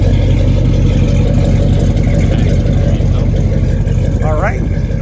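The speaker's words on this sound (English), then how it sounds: "Check out the exhaust, how it sounds." A 1971 Chevrolet Monte Carlo idles with a deep, loud exhaust rumble that stays steady and close throughout, and a brief squeaky sound cuts in near the end.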